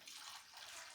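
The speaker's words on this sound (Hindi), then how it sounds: "अब इसमें डालता हूँ मैं पानी" Water from a tap pours steadily into a container of prepared masala mix at a farm, a continuous bright splashing stream with no voices.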